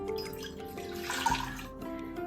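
Water is poured into a measuring cup, one and a half cups for an Asian orange chicken sauce, in a home kitchen. It makes a steady close splashing trickle that swells briefly midway through.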